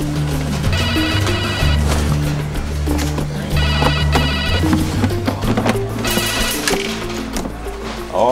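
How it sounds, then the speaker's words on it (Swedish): A telephone rings in an office during a customer-service meeting, bursts of ringing repeating several times over loud background music and room noise. "Hör ni inte att det ringer?"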